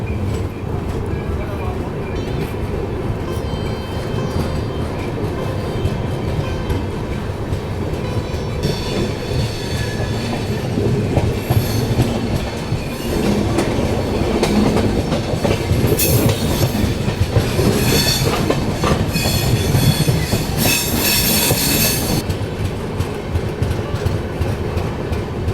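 The Kota Patna Express pulls out of Bayana station, a loud continuous rumble of a rolling train with rhythmic clatter and some high squeal building later, close and steady throughout.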